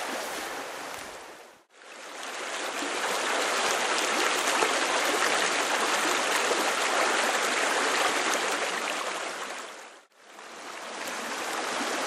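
Water in a stream in winter woods rushes loudly and continuously close by, with two brief dropouts breaking the steady flow.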